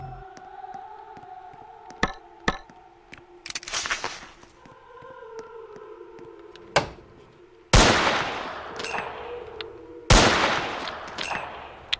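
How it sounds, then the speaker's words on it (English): Gunfire from a Roblox horror video game comes as scattered sharp shots and a few louder, longer blasts near the end, with quieter game sounds between them and no talk. "I wonder if it lets me shoot the bomb."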